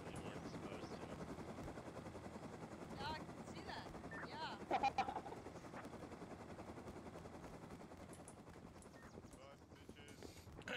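Helicopter flying in the video game Rust, a steady rotor whir running throughout at moderate level, with brief clattering bursts around the middle and a voice talking over it.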